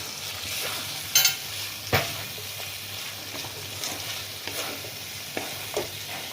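Pointed gourd pieces tipped into a hot pan with garam masala for a korma, with a soft continuous frying hiss, a few sharp clatters of the vegetables landing and occasional spoon scrapes as they are stirred.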